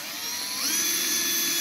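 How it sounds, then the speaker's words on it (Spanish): An electric drill whines steadily while boring small holes in a plastic bottle, a continuous high-pitched hum that rises slightly in pitch partway through. "hacerle unos orificios a la botella que vamos a utilizar con un taladro"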